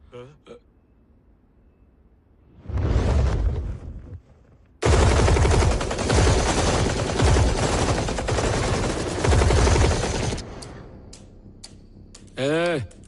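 Machine guns blaze in a Hindi film action scene: a short burst, a pause, then a long, loud, sustained volley of rapid fire that cuts off abruptly, followed by scattered clicks and a brief swooping tone.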